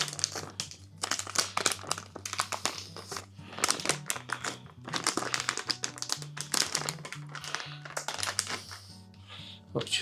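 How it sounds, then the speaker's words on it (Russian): Baking paper is handled while a pizza is made at home, with crisp crinkling and rustling in quick irregular bursts under a low steady background hum. "у меня пекарная бумага здесь наготове сразу"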